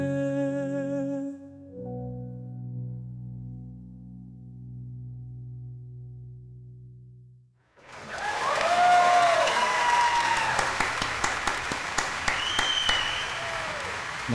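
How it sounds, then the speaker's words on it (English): AI-generated cheering and clapping swell up at the end of a song, following a sustained held musical chord that fades out; the applause is loud, dense and continuous with whoops rising above it. "the AI put the cheering and the clapping in at the end"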